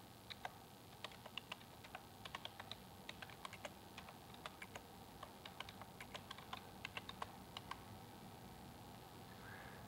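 Faint, quick typing on a computer keyboard, irregular clusters of light key clicks over a soft steady background hum.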